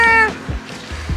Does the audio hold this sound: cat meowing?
yes